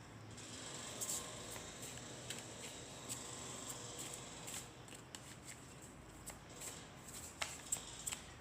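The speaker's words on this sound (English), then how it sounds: "I'll shuffle a little more and then get cards for you." Cards shuffle quietly in repeated riffles, a soft papery flutter with small snapping ticks, and nobody speaks.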